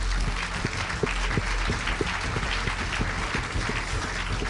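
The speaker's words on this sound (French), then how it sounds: "On les applaudit tous les 5." An audience at the Pierres d'Or 2012 real-estate awards ceremony applauds, a dense, steady wash of clapping with scattered louder claps standing out.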